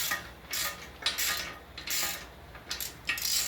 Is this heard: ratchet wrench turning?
yes